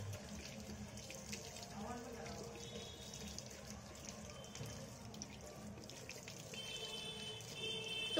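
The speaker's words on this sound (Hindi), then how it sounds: "अब हम इसे क्लीन पानी के नीचे वॉश करेंगे।" Running tap water splashes steadily into a sink throughout, with soft squishing as a makeup blender sponge is rinsed under the stream.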